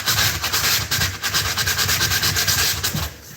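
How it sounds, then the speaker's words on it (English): Sandpaper rubbed by hand over a painted closet surface, a steady rhythmic scratching in short back-and-forth strokes, close and fairly loud, stopping near the end. "Let's see what happens when I hit it with the sandpaper."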